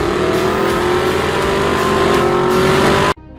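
Supercharged 6.2-liter V8 of a Chevrolet Camaro ZL1 1LE, shared with the Corvette Z06, roaring loud and close at sustained high revs with a steady, slightly rising pitch before cutting off abruptly near the end.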